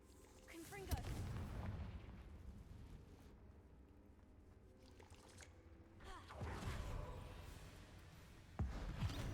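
A Confringo explosive spell goes off in the Hogwarts Legacy video game with a booming blast and rumbling tail, followed by quieter ambience and further sharp impacts, quite faint overall, with a voice present.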